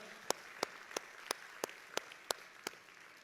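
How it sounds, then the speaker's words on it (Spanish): A church congregation claps in unison, eight sharp, evenly spaced beats at a brisk steady tempo over a quiet room background. "Dale un fuerte aplauso al Señor."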